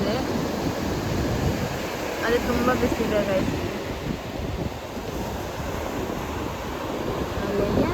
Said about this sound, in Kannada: ಗೈಸ್ ಅಲೆಗಳು ನೋಡಿ ಎಷ್ಟು ಚೆನ್ನಾಗಿ ಬರ್ತಿದೆ